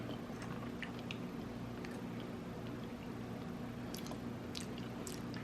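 Someone quietly chews a bite of baked stuffed pasta shells, with soft, close, wet chewing sounds and a few small clicks, alone and without talk.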